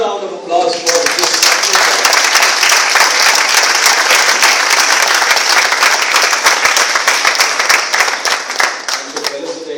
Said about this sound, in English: Let's have another round of applause for this.